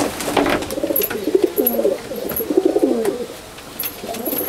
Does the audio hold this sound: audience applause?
no